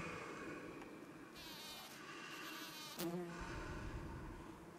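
Flies buzz close by indoors, a droning whine that swells and fades over a low background rumble.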